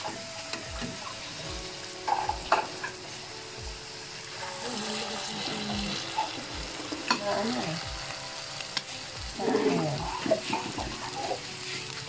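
Fish balls fry in hot oil with a steady sizzle and bubbling, broken by scattered taps and scraping stirs, with a louder splash of frying activity near the end and no talking.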